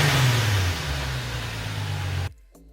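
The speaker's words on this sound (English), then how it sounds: "But not without first doing a couple revs." Nissan 370Z engine revving with the car parked after an oil cooler install, a loud throaty rise and fall of the exhaust that cuts off abruptly into near silence.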